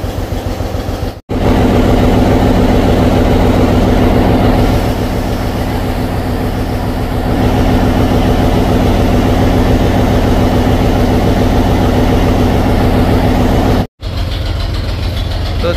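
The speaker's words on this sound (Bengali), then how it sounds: "আর প্রপালশন সিস্টেমে রয়েছে 750 হর্স পাওয়ারের 2টি উইচে ইঞ্জিন" Steady, loud low drone of the twin 750 hp 8-cylinder propulsion engines aboard the passenger ship MV Karnafuli-3, running continuously with a heavy rumble and two brief dropouts.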